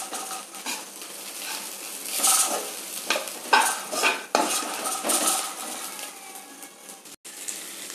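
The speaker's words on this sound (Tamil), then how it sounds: "இப்போ தக்காளி நல்லா லைட்டாக வதங்கிருச்சு." Tomatoes saute in a pan for a sardine curry, a steady sizzle broken by frequent clinks and scrapes of a spoon stirring against the metal pan, close and with no talking.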